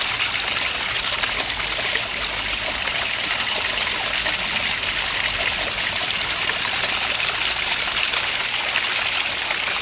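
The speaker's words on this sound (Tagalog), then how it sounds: "Malakas din ang tubig, oh." A natural spring more than a century old gushes strongly, a steady, loud rush of flowing water with no break and no voices.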